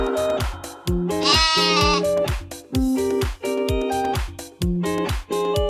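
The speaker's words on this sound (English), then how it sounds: "G for goat." Goat bleats sound several times in quick succession, close and clear, with wavering, quavering calls and no speech.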